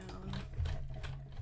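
A new sewing machine stitches in a quick, close, rhythmic whir-and-tap for about a second and a half, steady and moderately quiet.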